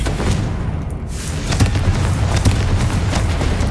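Explosive blast spell in the Hogwarts Legacy video game: a dense, loud booming rumble with repeated sharp cracks and bursts running continuously through, heavy low-end throughout.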